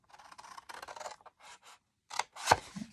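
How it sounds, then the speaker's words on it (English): Scissors trim cardstock along score lines for Stampin' Up! gift packaging, a run of short close snipping and scraping cuts with brief pauses, ending in one louder sharp snip. "I'm going to take my scissors and I'm just going to trim up on that one score line."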